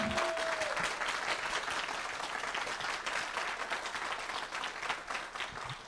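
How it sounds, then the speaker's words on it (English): Audience at a Q&A session breaking into sustained clapping, dense and steady throughout, close to the microphone with no talk. "you can hear everyone clapping"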